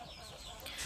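Chickens cluck in a brief, close burst as wheat feed is handed out, several birds overlapping in a short, busy chatter.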